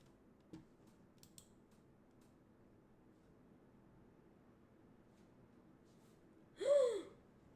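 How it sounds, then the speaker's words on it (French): A person yawns once, a short rising-then-falling breathy vocal burst late on, alone over a quiet room hum after a couple of faint clicks, during a relaxed livestream gaming session. "je suis juste baillé"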